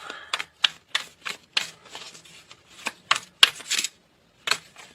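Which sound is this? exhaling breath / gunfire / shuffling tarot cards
shuffling tarot cards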